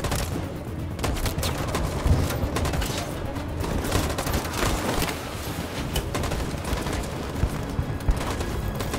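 Sustained gunfire from the video game Detroit: Become Human, dense overlapping rifle bursts and booms rattling continuously and loudly for several seconds, with faint voices mixed underneath.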